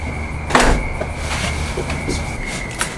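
A Toyota Tacoma door during a body repair and build gets handled, with a sharp thump near the start, lighter clunks and latch clicks after it, close and fairly loud, and faint voices in the background.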